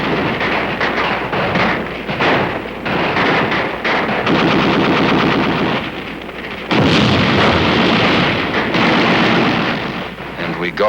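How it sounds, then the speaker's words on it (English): Small arms and machine-gun fire in a Korean War documentary, a sustained rattling barrage with heavy booming bursts, loud and continuous, with narration running over it. "whoever runs gets cut down with small arms fire"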